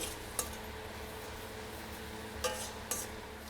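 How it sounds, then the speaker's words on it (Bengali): Ginger frying in a pan and being stirred: a soft, steady hiss runs throughout, broken by three brief utensil scrapes against the pan, fairly quiet and with no talking. "আদাটাকে একটু ভালো করে ভেজে নেব যাতে না আদার স্মেলটা ছাড়ে"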